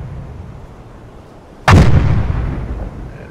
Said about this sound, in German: Und wie können die so schnell schießen?